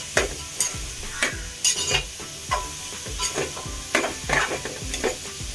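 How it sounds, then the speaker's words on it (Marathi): Onion for pav bhaji sizzles in a pan while being stirred, with repeated scraping strokes of a spatula against the pan over a steady frying hiss, close and moderately loud, no talking. "कांदा ऍड केलेला आहे कांद्याचा कलर चेंज होईपर्यंत काढवायचा आहे आपल्याला"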